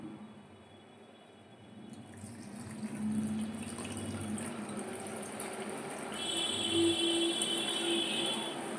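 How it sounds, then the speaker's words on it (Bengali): Water poured into a container of washed rice while preparing dosa batter, a steady splashing pour that swells louder partway through, heard alone and fairly close. "এরপর আমি এর মধ্যে মাপ করে জল ঢেলে দেবো।"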